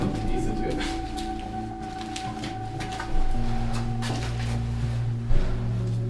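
A heavy bunker door at a former S-200 missile base is worked open, with clanks, scrapes and a thud over a steady low hum, while someone talks.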